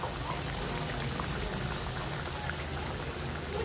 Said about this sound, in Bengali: তো মাছগুলোকেও এখন ভালো করে কষিয়ে নিব।